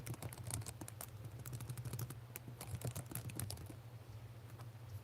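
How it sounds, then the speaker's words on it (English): Rapid, irregular clicking of keys on a laptop keyboard, close and fairly quiet, running steadily with a low hum underneath and no talk. "I'm just typing."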